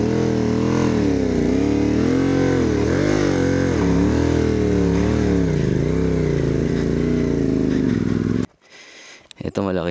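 A motorcycle engine revs steadily and loudly on a rough trail on the way to a waterfall, its pitch rising and falling as it strains, then cutting off abruptly near the end with brief faint noises after.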